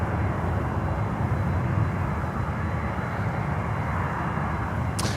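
An airliner climbing out from runway 8 right at Miami airport, a loud steady roar of engines that holds constant and close throughout, with no breaks.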